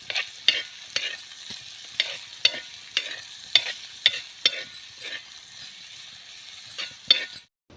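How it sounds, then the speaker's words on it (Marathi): Onion fries in hot oil on a tava while being stirred, a soft sizzle under a series of sharp, rhythmic spatula clinks and scrapes against the pan, with no voices. "तेल छान गरम झालं आहे आता यामध्ये आपण कांदा टाकूया कांदा आपण परतून घेऊया"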